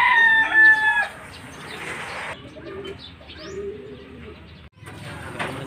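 Pigeons cooing and fluttering in an enclosed loft, with bird calls and rustling, fairly close and continuous.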